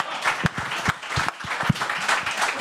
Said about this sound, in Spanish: Un aplauso para Miguel Lago